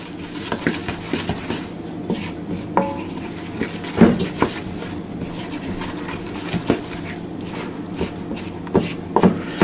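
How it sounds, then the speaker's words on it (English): A spoon mixes thick crumb cake batter in a bowl, a close, steady scraping and clinking against the dish with irregular soft knocks over about ten seconds. "Okay, we'll go ahead and mix this up. Again, the goal we want here is a thick batter."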